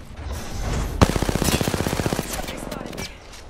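A rapid burst of automatic gunfire in the video game Apex Legends, with one sharp shot followed by a quick rattling string of rounds lasting about a second, then fading into background noise while faint voices are present.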